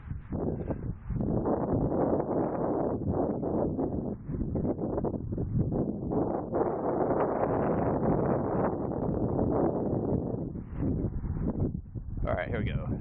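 Strong outdoor wind buffets the microphone during punting practice on a football field, a loud continuous rumbling roar that nearly covers someone speaking.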